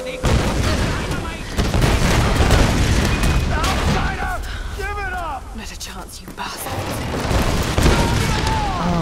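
Dynamite blowing up in a Tomb Raider game: heavy booms and bursts of gunfire crowd a busy battle scene, with falling whistle-like tones in the middle and someone talking over the noise.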